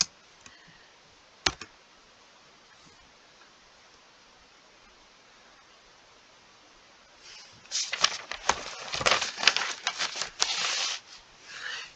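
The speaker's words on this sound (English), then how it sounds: "careful when you are typing these commands" Quiet near-silence with an isolated click, then a burst of rapid computer keyboard typing at a terminal, the keystrokes dense and uneven, close and fairly faint.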